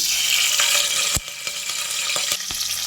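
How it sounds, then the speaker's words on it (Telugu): Ginger hits hot oil in a pan and fries with a steady, loud, close sizzle. A few sharp clicks and pops cut through the hiss. "ఇప్పుడైతే అల్లం అయితే వేస్తున్నాం"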